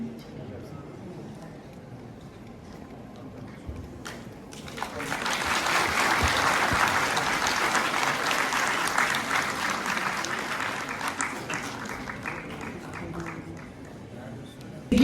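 Audience applause at a World AIDS Day event in Jammu, a dense burst of clapping from a crowd that swells after a few seconds, holds steady, then gradually thins out, with speech over an address system before it starts.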